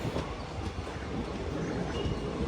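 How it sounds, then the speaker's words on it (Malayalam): A Tambaram Mangaluru Express train rolls into Kodumudi station with a dense, continuous rumble and clatter of wheels and carriages, loud and close throughout. "7:17 ട്രെയിൻ ഇതാ കൊടുമുടി സ്റ്റേഷനിലേക്ക് എത്തിയിരിക്കുകയാണ്"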